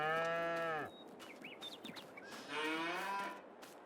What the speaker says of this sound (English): There's our first lot of cows we bought.